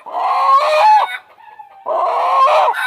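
A village-breed rooster clucks loudly and close, two harsh bursts of rapid clucking separated by a brief quieter pause.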